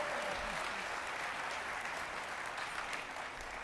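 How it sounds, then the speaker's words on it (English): Steady audience applause fills a gala event for several seconds at a moderate distance, a continuous wash of many hands clapping with no voices over it. "Insert clap here."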